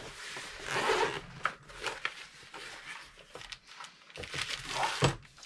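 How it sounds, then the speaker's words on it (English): Zipper on an accessory case drawn open in several short, uneven pulls, close by, mixed with light handling rustles and small knocks. "Let's go ahead and unzip this and see what's inside."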